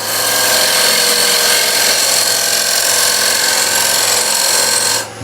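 A wood lathe spins steadily while a turning tool cuts a dovetail into a raised bowl, giving a loud, continuous whirring scrape that holds for several seconds before easing off at the end.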